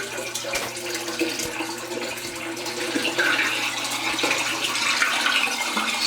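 An automatic bell siphon drains an aquaponics grow bed, making a steady rushing gurgle of water down the pipe that grows slightly louder and fuller toward the end.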